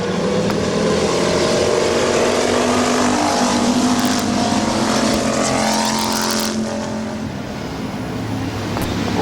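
Stock cars racing on an oval speedway at Midvale, a loud, dense roar of several engines blending and surging as the pack passes close by, continuous throughout with no talk.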